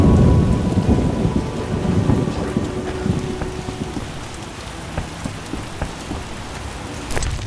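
A heavy downpour with rumbling thunder plays out in The Witcher video game, a dense roar of rain over low booming thunder that gradually eases, with scattered drips and a sharp crack near the end.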